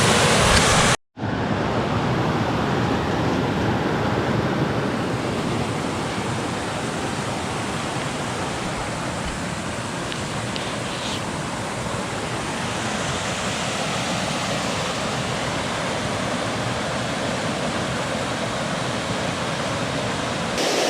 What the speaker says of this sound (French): on est au pied de la cascade